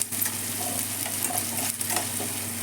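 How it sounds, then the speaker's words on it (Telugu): Curry leaves fry in hot oil with a steady, soft sizzle and faint crackling, heard close and alone for a few seconds. "మంచిగా కరివేపాకు ఫ్రై అవ్వగానే"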